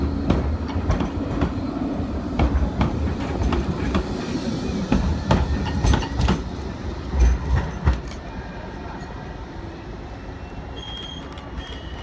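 A Blackpool tram, car 010 bound for Stargate, pulls away on its rails with rhythmic wheel clatter over joints that is loud at first and then fades as it moves off, and nobody talks.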